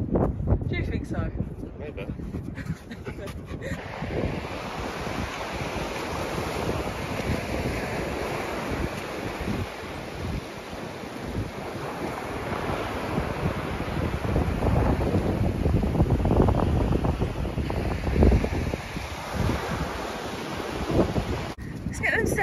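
Wind blows steadily outdoors on a breezy day, roaring in gusts and buffeting the microphone, with a surf-like wash running continuously through the whole stretch.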